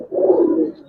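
A Giribaz colouring pigeon in a loft gives one soft, low coo lasting under a second, close by and alone.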